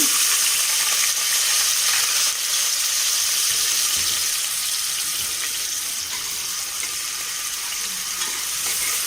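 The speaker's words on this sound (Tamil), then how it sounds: "எண்ணெய் காஞ்சோடனே வெங்காயம் போட்டு" Onions sizzle in hot oil in a pan for a moong dal gravy, a steady, close, water-like hiss that slowly eases a little in loudness, with no voices.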